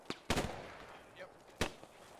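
In the World War II game Post Scriptum, two sharp gunshots crack about a second apart, faint and distant, over quiet ambience with a little noise in between.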